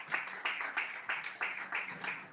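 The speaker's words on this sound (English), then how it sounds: "A round of applause." An audience at the unveiling of an emergency health card in Nigeria claps in fairly faint, evenly spaced bursts of applause that continue for a couple of seconds.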